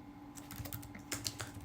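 Computer keyboard keys tapped while writing PHP code for a Laravel content management system: a dozen or so quick, close clicks in an irregular rhythm over a steady low hum, with no talking.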